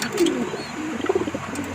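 Pigeon in a loft gives soft, low cooing calls in two short bursts, close by, with faint background hum and no speech.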